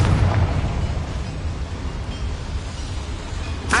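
The Confringo spell blasts in Hogwarts Legacy as a loud, dense fiery roar that stays steady for a few seconds and ends with a sharp crack.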